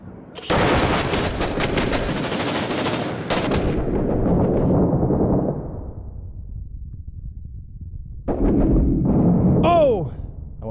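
A frag grenade explodes indoors in a video game, heard as a loud, rumbling blast amid bursts of rapid gunfire, with a later crackling burst and a falling whistle; speech is not clearly evident.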